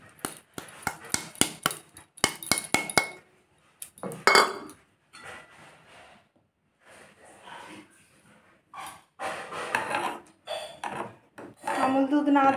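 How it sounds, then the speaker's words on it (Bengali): A utensil scrapes and clinks against a pot while Amul milk powder is stirred into hot water, with a quick run of rhythmic taps at first, then intermittent scraping interrupted by someone talking. "আমুল দুধটা দিয়ে ভালো করে গুলে নেব।"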